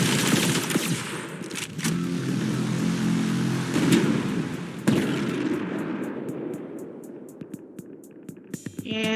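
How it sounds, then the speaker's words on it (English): Futuristic laser guns fired by enemies in a video game, rapid repeated bursts over a dense roaring wash, tapering into sparse sharp pulses toward the end. "you can hear the enemy's gun, which also sounds futuristic,"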